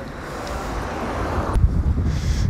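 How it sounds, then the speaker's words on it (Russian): Strong wind buffets a microphone outdoors in open country, a loud rushing roar with heavy low thumping gusts that swell toward the end, with no voices. "здесь сильный ветер. Так что я думаю, здесь будет шум, микрофон."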